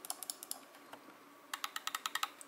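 Quiet, crisp clicks from a Roccat Kone Pro mouse button in two quick bursts, each a rapid series of light taps close up, with a short pause between.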